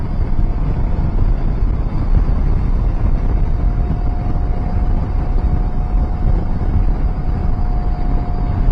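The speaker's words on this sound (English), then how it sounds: "there is helmet buffeting now, quite considerable really" Heavy, constant wind roar buffeting a rider's helmet on a KTM 790 Adventure motorcycle at speed, a loud dense rush filling the whole stretch with a faint steady engine tone beneath.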